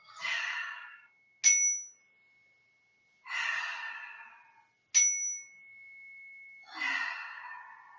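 A chime rings twice for yoga breathing, each clear bright strike with a long ringing decay, alternating with slow audible breaths in and out.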